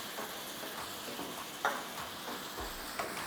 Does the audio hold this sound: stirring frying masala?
yes